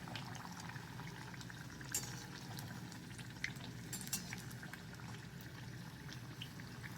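Potato bhajiyas fry in hot oil over a medium flame, a steady dense bubbling sizzle running throughout with occasional sharper crackles and pops, loud and continuous with no talking.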